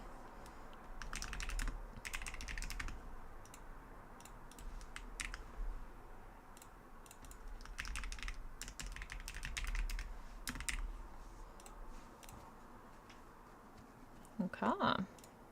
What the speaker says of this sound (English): You get my clickety clacks.